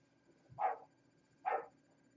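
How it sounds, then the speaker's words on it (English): A dog barks twice, a pair of short, fairly close barks about a second apart in an otherwise quiet room. "There's my dog off."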